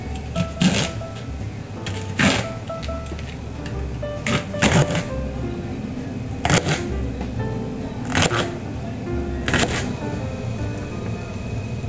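Kitchen knife chopping Japanese long green onions (negi) into 5 cm lengths on a cutting board, a series of sharp isolated chops spaced roughly a second or two apart, close and clear.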